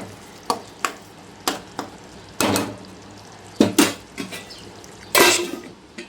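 Tomato onion curry being stirred in a frying pan, with a spoon scraping and knocking against the pan in a series of short, close strokes and louder scrapes over a faint sizzle.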